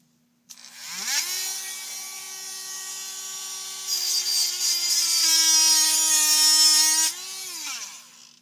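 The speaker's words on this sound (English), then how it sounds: "Dremel" A Dremel rotary tool cuts a slit into the front axle of a Trail Finder 2, a loud, steady high-pitched whine that rises as the tool spins up, holds for about six seconds under load, then winds down.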